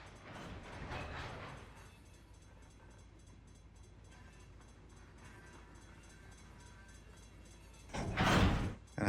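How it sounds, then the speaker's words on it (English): A freight train reverses in the Run 8 Train Simulator video game, with a steady low rumble of railcars and a loud rushing burst near the end, no voices. "we're going to take this train backwards."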